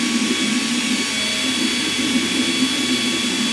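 A turbine air-assist blower on an 8.5 watt Endurance PRO laser engraver gives a steady, loud, close whine and rush of air that holds unbroken for the whole stretch. No one speaks over it.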